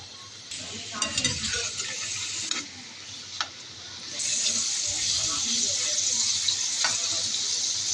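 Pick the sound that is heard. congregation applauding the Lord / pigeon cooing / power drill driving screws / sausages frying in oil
sausages frying in oil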